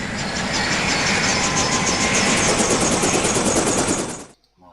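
Military helicopters fly in the Command: Modern Naval/Air Operations video game, a loud, continuous rotor and engine roar with rapid pulsing that holds steady and then cuts off abruptly near the end.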